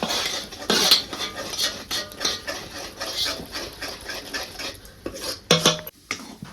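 Besan being stirred fast into boiling water in a pot, a spoon scraping and clattering against the metal in quick, uneven bursts, close and fairly loud with a few sharper knocks near the end.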